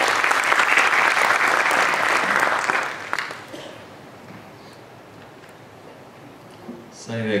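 Audience applause at the opening of an academic symposium on Ottoman scholarship welcomes a professor to the stage. The clapping is loud and dense for about three seconds, then fades into quiet room noise, with a brief stir near the end.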